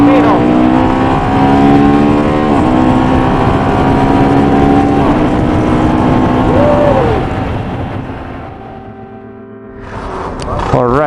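A Moto Guzzi V100 Mandello S sport tourer ridden in sport mode, its loud engine droning close and steady with pitch shifts between gears, easing off before a brief rev near the end.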